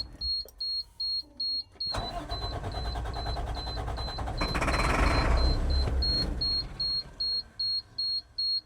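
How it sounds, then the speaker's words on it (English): A warning chime beeps in a regular pattern while a truck engine cranks over with a rough whirring for several seconds, then stops and the beeping resumes. "Let me just see if it cranks over first."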